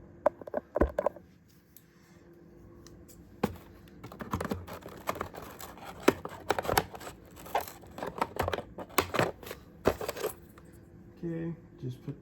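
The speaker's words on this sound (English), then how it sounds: "Where are my scissors? Because now we have to get cutting." Scissors snipping through toy packaging during an unboxing of a Transformers Age of the Primes Commander Class figure, with close, irregular clicks, snips and rustles and some speech in between.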